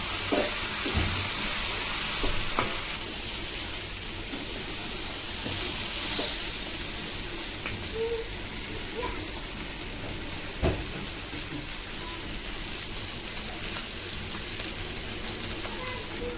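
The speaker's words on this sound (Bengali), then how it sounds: "এখন আমি দিয়ে দিব ভাজাগুলি" Fried dried fish goes into spiced masala in a pan, a steady hissing sizzle with occasional stirring scrapes and clicks running evenly throughout, no voices.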